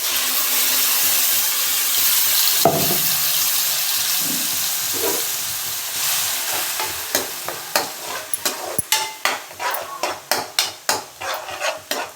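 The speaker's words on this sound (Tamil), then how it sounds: "நல்லா வதங்கி இப்போ அரைச்சி வச்ச மசாலாவை வீட்டுக்கலாம்" Ground masala paste for butter bean gravy fries in a pan, a steady close sizzle and hiss that gives way to a run of sharp scraping stirs and clinks toward the end, with no talking.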